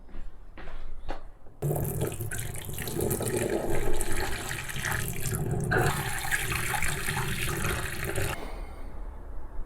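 Tap water runs and splashes over rice being washed in a kitchen, a loud steady gush with shifting sloshing, preceded by brief handling sounds and cutting off near the end.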